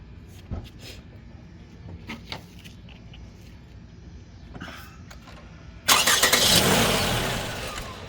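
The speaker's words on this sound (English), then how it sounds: "Start the engine." A 2017 Toyota RAV4 with battery trouble and an AWD system malfunction is cranked: faint clicks and low rumble, then a loud broadband surge of engine sound kicks in around the last two seconds and holds steady.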